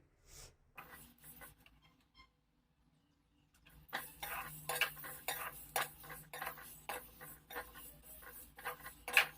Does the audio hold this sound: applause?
no